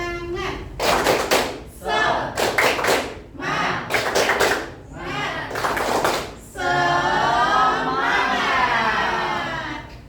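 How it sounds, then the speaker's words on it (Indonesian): A school class performs a patterned rhythmic clap cheer in groups of quick sharp claps separated by pauses, with children's voices chanting between and after the bursts, ending in a sustained shout. "Kita tepuk semangat dulu"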